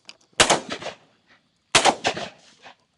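Two sharp, loud shotgun blasts fired during a dove hunt over a cattle pond, spaced about a second and a half apart, each followed by a short echoing tail.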